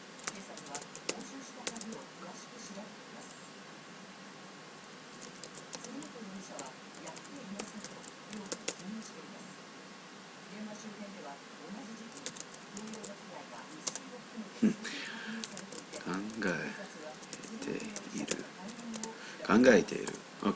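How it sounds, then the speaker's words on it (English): Computer keyboard typing during a Japanese grammar lesson livestream, with irregular clicking keystrokes that come and go and grow busier near the end, mixed with someone speaking. "You can tell my typing sucks."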